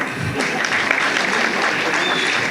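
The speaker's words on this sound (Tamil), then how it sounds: "தயவு செஞ்சு நீங்களே ஒரு தடவை கைத்தட்டிடுங்க" Audience applause at a film audio launch event, a steady wash of clapping from a large crowd that carries on without a break for the whole moment.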